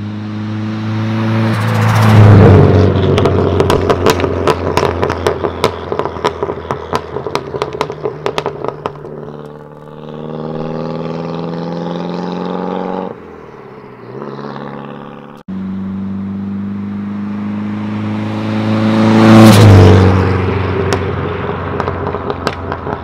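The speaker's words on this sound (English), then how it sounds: "I'm going to cut to drive-bys" Loud car passes, twice: the engine swells with crackling, popping exhaust as it approaches and rushes by, fades to a distant idle, then roars past again near the end.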